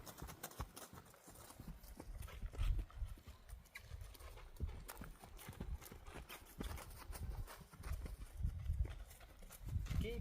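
Horse hooves clip-clopping on the ground as the horse is lunged in a circle without a lunge rope, a steady rhythmic patter of steps that runs throughout, with a person talking over it.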